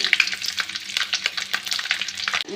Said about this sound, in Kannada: ಆಮೇಲೆ ಜೀರಿಗೆ ಒಂದು ಇಡಿ ಆಗೋವಷ್ಟು ಕರಿಬೇವು ಬೆಳ್ಳುಳ್ಳಿ ಸುಲ್ದು ಹಾಕೊಳ್ಳಿ